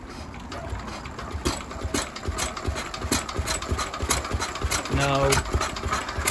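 Lister D stationary engine being cranked and trying to start, giving a loud, close, uneven chugging with irregular firing pulses, while people talk over it.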